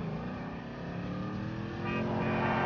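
Steady car engine in Grand Theft Auto V, a continuous drone that holds even and swells slightly louder near the end, with no talk over it.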